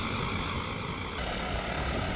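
Boat propellers running in the Stormworks game make a steady, continuous engine-like drone with a constant whirring hum and no pauses throughout, and no one speaks.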